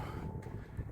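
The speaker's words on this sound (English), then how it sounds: "It's kind of windy out too." Wind buffets a phone microphone outdoors, a low continuous rumble with soft gusty thumps for about a second.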